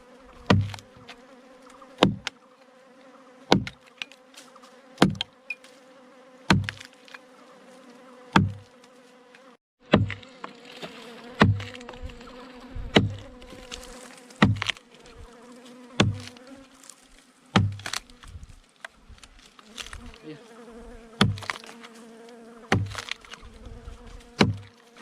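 Wild forest bees buzz steadily around a natural honey nest, a continuous drone broken by repeated sharp knocks roughly every one to two seconds. The knocking is louder and more irregular in the second half.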